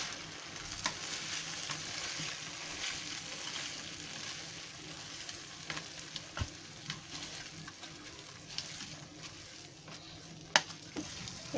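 Mushroom masala being mashed and stirred in a pan over a low gas flame, a steady soft sizzle with scraping and occasional sharp clicks of the utensil against the pan, close and moderately quiet.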